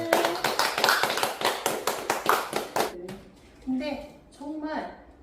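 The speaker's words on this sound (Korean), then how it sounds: "자, 박수." A small group claps in quick, uneven bursts at a wooden house handover gathering, close and lively for about three seconds, then stops as people begin talking.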